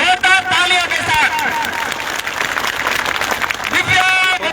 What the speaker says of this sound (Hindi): आप सब सामूहिक सबकी ओर से दिव्या जी मनेरा का बहुत बहुत हार्दिक स्वागत अभिनंदन जोरदार तालियों के साथ